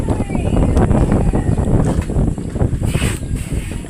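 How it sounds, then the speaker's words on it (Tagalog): Strong wind roars steadily across an open sea on a small fishing boat out netting mackerel scad, gusty broadband rumble with water and hull noise, close and loud throughout. "malakas talagang hangin"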